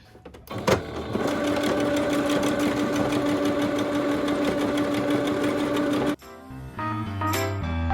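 A sewing machine runs steadily for several seconds, stitching ottoman upholstery fabric with a half-inch seam, a close, even mechanical whir that starts after a click and stops abruptly, followed by faint handling noises.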